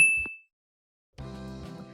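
A single bright bell ding rings out and fades within half a second, followed by a short silence and then a low sustained tone.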